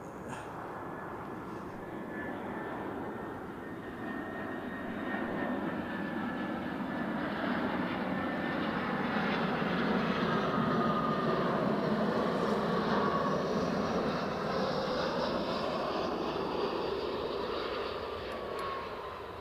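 An EasyJet airliner lands at Edinburgh Airport, its engine roar rising and falling in a broad, steady rumble heard from a distance, with no voices over it.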